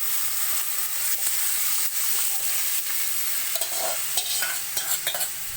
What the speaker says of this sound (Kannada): ಇವಾಗ ನಾನು ಚಿಕನ್ ತೊಳೆದಿಟ್ಕೊಂಡಿದ್ನೆಲ್ಲ 3/4 kg ಅದನ್ನು ಹಾಕ್ತಾಯಿದ್ದೀನಿ ನೋಡಿ